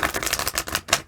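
A deck of tarot cards is riffle-shuffled in a quick, close burst of fluttering, papery clicks lasting about a second, with no voice over it.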